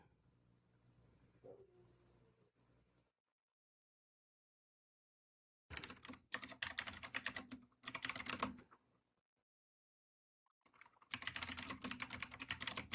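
Fingers tapping on a computer keyboard in two rapid bursts of clattering keystrokes, close and distinct, separated by stretches of near silence.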